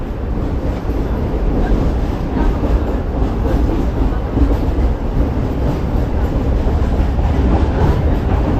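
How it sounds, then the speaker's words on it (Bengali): Passenger train on the Kolkata circular railway passing Khidirpur through the port area, a loud, continuous rumble and clatter of wheels on rails heard from aboard, steady throughout with no talk. "আমাদের ট্রেন এখন খিদিরপুর স্টেশন পার করে গেছে"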